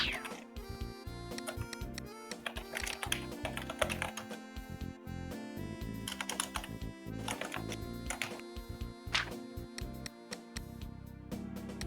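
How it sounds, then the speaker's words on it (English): Steady typing on an old Logitech K120 keyboard, a dense run of close, clicky keystrokes in an uneven rhythm that continues with few breaks, with faint talk underneath. "It's called typing."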